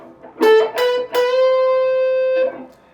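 A few overdriven electric guitar notes are picked, then one note rings out sustained with a gritty, distorted tone before cutting off.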